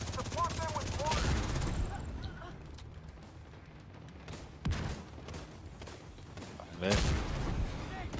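Gunfire and mortar blasts in The Division 2, with sharp bursts near the start, around 4.7 seconds and again near 7 seconds, all mixed under steady radio-style talk between players.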